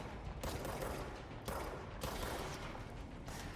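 Gunfire in the action video game Control, a dense, loud barrage of shots with bursts of heavier blasts, continuous with no speech.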